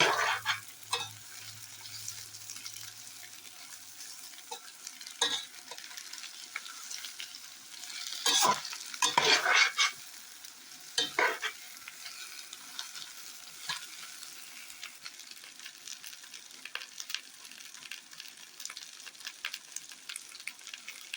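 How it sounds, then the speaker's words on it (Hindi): Eggplant (baingan) pieces fry and get stirred in a pan for a Kashmiri-style dish, a steady sizzle broken by scraping stirs, with a louder flurry of spatula strokes midway and no one talking. "अब हम इनको अच्छी तरीके से फ्राई करेंगे।"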